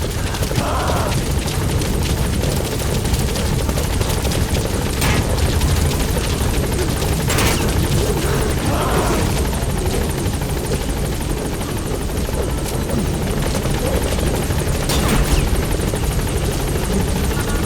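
An extraction helicopter in Metal Gear Solid V: The Phantom Pain drones steadily throughout, with loud, continuous rotor and engine noise, dense and unbroken, plus a few faint sharp cracks mixed in.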